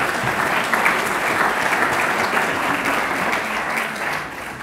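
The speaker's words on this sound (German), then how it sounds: "Ich glaube, es ist ein extra Applaus für die Damen." Audience at a public discussion forum on restoring trust in politics applauding the women on the podium: dense, steady applause from a full room, sustained and even throughout with no talk over it.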